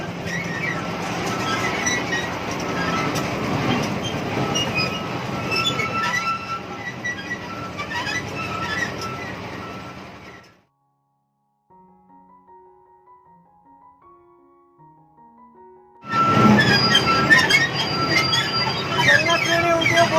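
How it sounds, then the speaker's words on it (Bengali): Amusement park China train ride running with loud rumbling motion noise and bright ride music, cutting to near silence for several seconds with faint tones, then returning at full volume. "এটা হচ্ছে চায়না ট্রেন"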